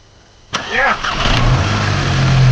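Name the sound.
car engine starting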